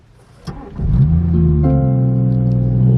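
A BMW 440i with a B58 engine and an installed downpipe cranks briefly, then catches and settles into a loud, steady idle close by.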